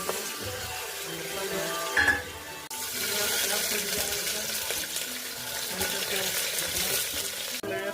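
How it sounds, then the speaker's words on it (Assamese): Steady sizzling of potatoes frying in hot oil, close up, with a brief clatter partway through and a sudden cut near the end. "তেলতে আলু ভাজি দিয়া ফ্ৰাই কৰি দিয়া আছে"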